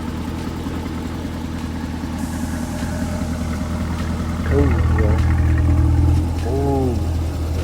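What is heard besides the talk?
Corvette C8 exhaust idling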